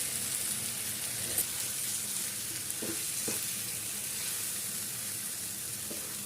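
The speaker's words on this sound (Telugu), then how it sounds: "అసలు ఈ బాండి వేడికి ఫ్రై అయిపోతుంది" A tamarind and green chilli chutney mixture fries in a hot pan, giving a soft, continuous sizzle with a few light scraping stirs.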